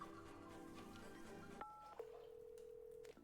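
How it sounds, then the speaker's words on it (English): A telephone sound in the video game Wanderstop: a busy tone over background music gives way to a clean, steady dial tone that holds alone for over a second. "What's with the phone dial tone?"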